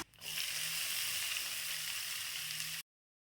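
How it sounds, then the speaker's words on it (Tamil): Cashews, onions and urad dal fry in oil in a pan on low heat for bread upma, making a loud, even hiss of sizzling that holds steady, then cuts off abruptly. "முந்திரி லைட்டாக வறுபட்ட பிறகு வெங்காயம் சேர்த்துக்கலாம்."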